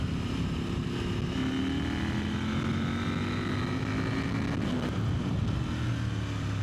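KTM 890 Supermoto motorcycle accelerating in fifth gear on a road, a steady close engine drone with rising pitch and wind rush, no talk.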